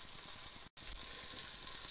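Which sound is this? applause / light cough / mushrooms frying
mushrooms frying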